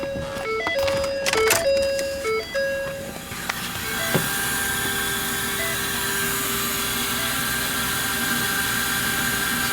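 With the key switched on, a 2011 Ford F350 with a replacement 6.7 Powerstroke diesel gives a quick series of electronic chimes, then a steady, close whirring hum that carries on alone.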